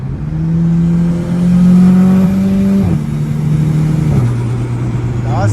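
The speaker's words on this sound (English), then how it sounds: "Let's see how a lady driver climbs onto a highway" A car, a 6R, accelerates up a highway on-ramp, its engine droning loud and close as it climbs through the gears, pitch rising then dropping at each shift before rising again.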